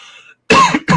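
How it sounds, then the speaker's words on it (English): A single harsh, throaty sinus cough from a man, close and loud, followed by a brief second burst of coughing after a faint tonal sound and a short pause. "This is a sinus cough."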